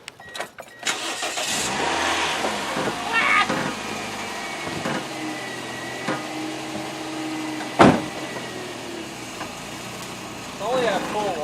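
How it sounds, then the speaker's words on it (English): A car on stretched tires and wheel spacers backs up slowly while its tires rub the inside of the wheel well, giving faint squealing scrapes over the low engine hum, with people talking nearby. "the wheels we put on when we stretch the tires rub just a little bit on the inside"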